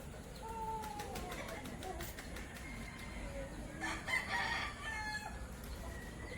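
Chickens cluck softly and a rooster crows briefly in a backyard coop, faint calls over steady outdoor background noise.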